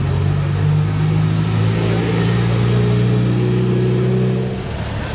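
A Mercedes SLR Roadster's engine drones loud and close in a steady, deep note, easing off slightly as the car moves away at the very end.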